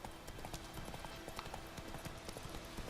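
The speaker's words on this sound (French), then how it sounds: "Le cheval là." Horse hooves clip-clopping in The Witcher 3 video game, a quick, fairly regular trotting patter of hoof strikes, faint and continuous, with no speech over it.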